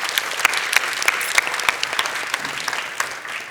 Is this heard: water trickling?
no